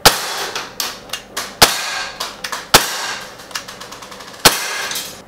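Shots from an Umarex Glock 19 airsoft pistol without blowback, a run of sharp, close cracks at an uneven pace with several louder reports and quicker, softer pops between them.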